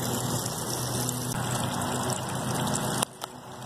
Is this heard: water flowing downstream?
yes